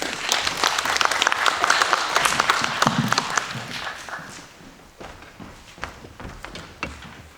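Audience applause at a forum marking the opening of the Pyeongtaek Art Center, welcoming a speaker: dense, lively clapping that peaks early, then thins and fades into a few scattered claps and footsteps.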